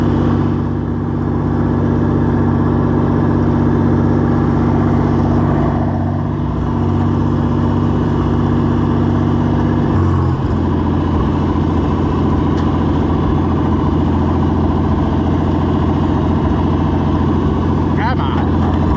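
A gasoline John Deere 4020 tractor engine runs steadily, a loud low rumbling drone that shifts in pitch midway as gears change, close up and continuous with no talking.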